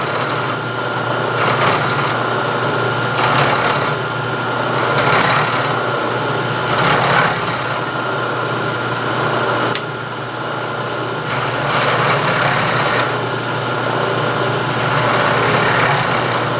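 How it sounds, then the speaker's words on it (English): A milling machine with a 1/4 inch end mill plunge mills a steel carriage stop part, a steady motor whine broken by repeated rasping cutting bursts that come and go in a loose rhythm, close and loud. "rotate the part around a little bit at a time and plunge mill it"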